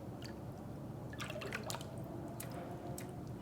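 Water in a container is stirred and disturbed by hand, giving soft splashes and scattered drips over a steady background hiss, close and fairly quiet, with no talk.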